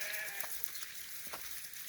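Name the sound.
flock of sheep bleating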